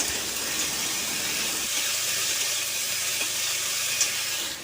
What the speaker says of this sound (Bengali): কিছুক্ষণ নাড়িয়ে নেব।